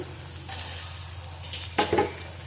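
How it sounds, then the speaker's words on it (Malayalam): Chicken liver frying in a covered pan over a low flame, a soft steady sizzle that swells briefly with a short burst of crackling near the end, close by and without speech. "ചെറിയ തീയിലിട്ട് നമുക്കിതിനെ അടച്ച് ഫ്രൈ ചെയ്യാം"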